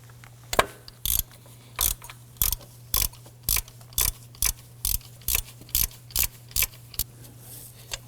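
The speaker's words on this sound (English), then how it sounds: "we need our T40 Torx bit right in the center of our idler pulley here on our ratchet." A ratchet with a T40 Torx bit turns the center bolt of an idler pulley on a 2003-2014 Volvo XC90 during a serpentine belt job, giving short bursts of close, crisp clicking in a steady back-and-forth rhythm over a low hum.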